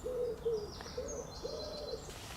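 Pigeon cooing beside an abandoned railway path: three soft, low, hooting coo phrases in a row, moderately close over quiet outdoor background.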